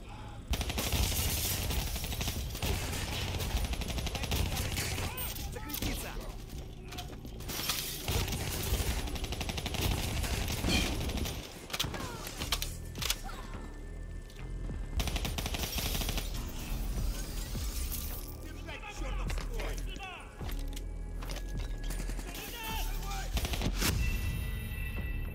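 Gunfire in the Call of Duty Black Ops 3 video game on Xbox Series X: rapid automatic bursts and single shots crackle in clusters through a loud battle, with brief quieter gaps and some speech.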